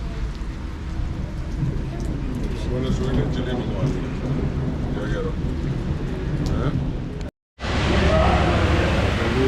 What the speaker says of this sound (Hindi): बारिश अभी बहुत तेज़ हो रही है